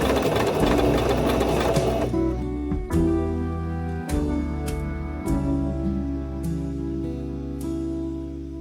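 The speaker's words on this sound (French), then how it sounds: "tu vas venir piquer tes bandes" A sewing machine runs steadily, stitching strips of fabric for a polo shirt placket. It hums loud and close, then stops and starts in several short bursts with clicks between them.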